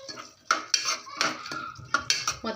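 A spoon stirs garlic chili powder into cooked tomato in a pan, scraping and clinking against the metal in uneven strokes, loud and near, with a soft sizzle underneath and nobody talking.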